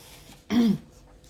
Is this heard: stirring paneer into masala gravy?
no